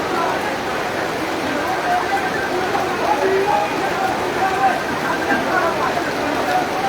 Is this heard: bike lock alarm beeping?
no